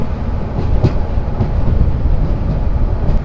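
The Saikat Express passenger train runs through hilly terrain near Satkania on the Chattogram–Cox's Bazar line, producing a loud, continuous close-up rumble with clickety-clack wheel beats and no voices.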